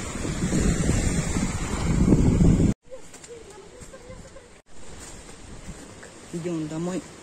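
Surf washing onto the warm Sea of Azov beach, a loud windy roar of waves that gives way to quieter wash, with a person speaking briefly over the shore sound near the end.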